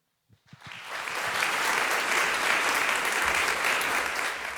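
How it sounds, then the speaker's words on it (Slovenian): Audience at a regional children's and youth choir festival concert breaks into sustained applause, beginning with a few scattered claps and swelling into a steady, dense roar of hands that holds evenly to the end. "hvala vam, da boste bodrili z aplavzom"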